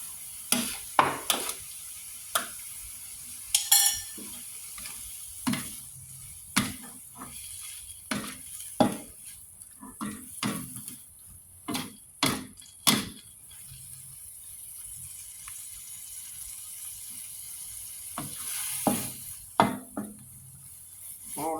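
Mussels stir-fry with chili paste and kaffir lime leaves in a pan, a spatula scraping and clanking in irregular strokes over a soft background sizzle, close, with no talking.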